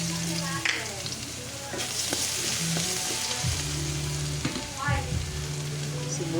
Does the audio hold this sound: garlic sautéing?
yes